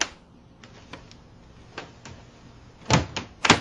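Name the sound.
door falling off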